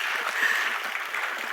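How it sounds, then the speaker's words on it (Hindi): Brief burst of audience applause in a medical conference hall during a motivational talk, dense and even clapping from a large crowd lasting about a second and a half. "ठोको ताली"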